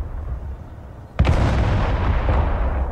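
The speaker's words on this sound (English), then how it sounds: "I got an A-bomb coming" An atomic bomb goes off in the Broken Arrow war game: a sudden massive boom cuts in after a low rumble, followed by a sustained, loud, roaring blast wash that does not fade.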